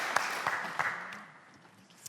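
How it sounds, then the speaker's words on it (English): Audience applause at a live televised question-and-answer debate in Newcastle, with a few sharper claps early on before the clapping thins and fades over about two seconds. "I didn't hear over the applause"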